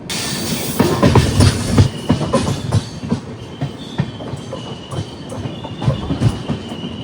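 The Ranakpur Express rolls through a station crossing point in India, with loud, close rumbling, rhythmic clickety-clack of wheels over rail joints and occasional wheel squeal, and no talk.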